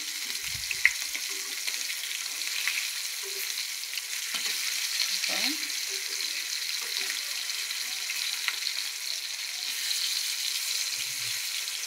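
Food frying in a pan for a chicken curry meal, with a continuous, fairly loud sizzle and a few faint clinks and stirring scrapes throughout.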